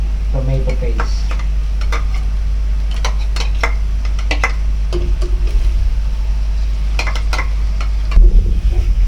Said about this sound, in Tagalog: isasama natin sa igigisa itong ating tomato paste